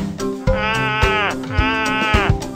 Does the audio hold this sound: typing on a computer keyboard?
no